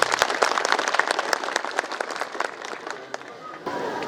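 A room full of people applauding at a condolence house gathering: brisk, close clapping that starts strong and thins out over about four seconds.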